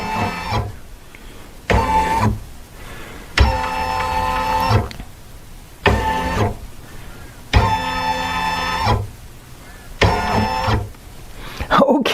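An embroidery sewing machine runs a trial placement stitch for a quilt block, sounding in several loud whirring bursts of a second or so each, separated by short pauses, with a voice speaking quietly between runs.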